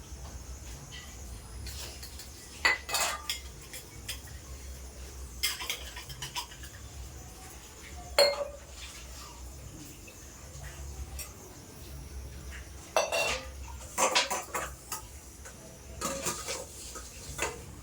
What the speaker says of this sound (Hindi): तो चलिए बर्तन धोते हैं।